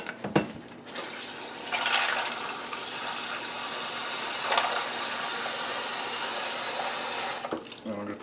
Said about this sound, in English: And fill it with cold water.